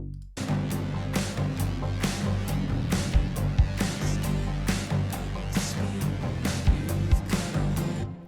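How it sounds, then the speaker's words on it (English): A deep, sustained bass synth drives a heavy breakdown, pulsing under regular drum hits in dense, loud electronic-rock music. "the bass synth for this breakdown sounds like this"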